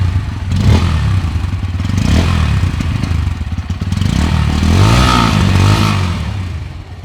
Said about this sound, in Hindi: तो भाई ये इस बाइक का साउंड है